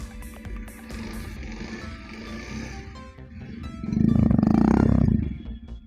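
A Bajaj Pulsar 125 BS6 motorcycle engine runs close by with a steady throbbing idle, then swells into a louder rev for about a second before settling back down; no talking.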